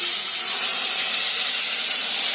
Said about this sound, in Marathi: आता याच्यामध्ये हा मसाला ओतायचा